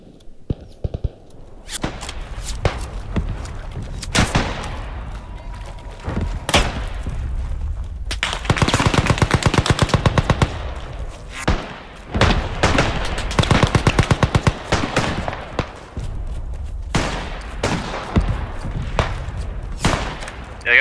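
Machine gun fire in the Beyond The Wire first-world-war shooter, with loud rapid bursts and single cracking shots, plus booms and thuds near and far, broken by brief quieter gaps.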